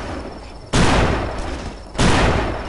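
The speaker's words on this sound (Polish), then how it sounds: "Cholerna dwuręczna armata." Two-handed cannon firing in the video game The Last Stand, two heavy booming blasts about a second apart, each sharp onset trailing into a loud rumbling decay, with no voices.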